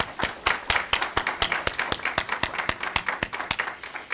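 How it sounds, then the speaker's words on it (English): Applause at a state board of education meeting for an honoree: dense, steady clapping from a room of people, with rhythmic sharp claps standing out near the microphone, sustained throughout. "Let's give her a round of applause for her work."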